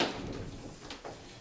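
A dropped house door scrapes and knocks as it is shifted, with a continuous rough rumble and a couple of soft bumps, close and moderately quiet.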